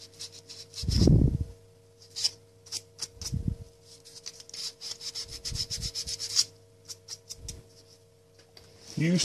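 Sandpaper rubbing across an Xbox 360 plastic shell, close up, in short scratchy strokes with pauses between passes, some faint and some louder.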